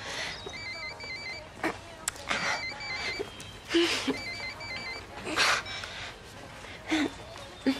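A telephone rings repeatedly in short trilling bursts at a moderate distance, with panting breaths and gasps heard in between.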